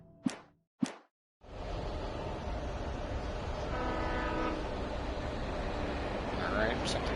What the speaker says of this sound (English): something's honking at me